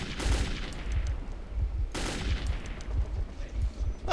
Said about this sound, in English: That shotgun!